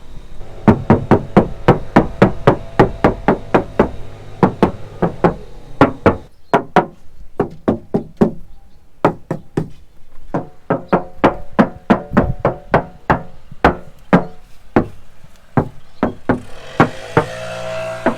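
Knuckles knock on the door panels of a Toyota Tacoma in a sound-deadening test, a long series of hollow raps in quick runs with short pauses, close and loud with no talk.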